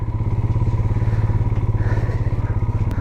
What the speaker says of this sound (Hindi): और जब तक क्रॉस नहीं करेंगे बस यही रास्ते पर बाइक चलानी है